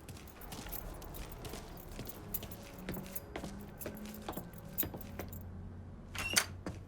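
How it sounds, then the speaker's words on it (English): Keys jangle with light, scattered metallic clinks as they are grabbed in the Mafia III video game, heard quietly over low background ambience. "Hey, man, grab those keys."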